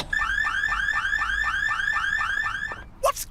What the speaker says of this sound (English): the car alarm's not in the habit of going off by itself